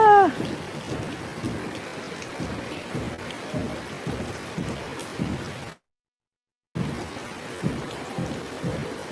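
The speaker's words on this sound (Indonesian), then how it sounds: "Ada hujan lebat ini" Heavy rain pours steadily outside a pesantren hall, a dense close wash of drops with low rumbles of thunder rolling through, cut by a brief gap of silence partway.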